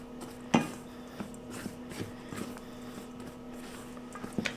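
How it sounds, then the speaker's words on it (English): A spatula mixes dry ingredients, including flour, in a bowl, giving soft, faint scraping with scattered light taps and knocks against the bowl. "let's go ahead and mix this up really well"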